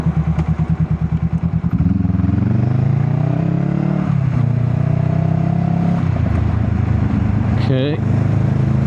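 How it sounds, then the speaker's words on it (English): Motorcycle with an aftermarket end-can exhaust, no headers, riding along scenic roads near Hebden Bridge: engine drone with rapid crackles early, then rising and falling revs and a sharp pop near the end, with some voice under it. "That exhaust cracks and pops, and that's just the end can as well"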